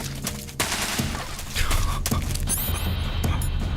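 Enemy gunfire in a Metal Gear game: rapid bursts of automatic fire crackle through a busy game soundscape, with sharp shots and rattling volleys building over a few seconds.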